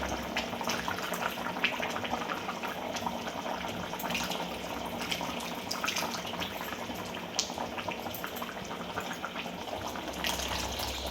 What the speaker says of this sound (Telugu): చింతపండు నీళ్ళని పోసేసుకోవాలి.